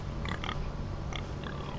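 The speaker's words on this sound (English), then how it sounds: "Hey pigs." Pigs in the Game of Thrones video game grunt and oink in a few short bursts over a steady low background drone.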